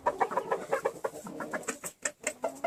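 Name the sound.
show rooster and hens clucking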